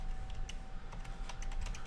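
A sudo password is tapped out on a computer keyboard, a short burst of scattered keystrokes over a low hum.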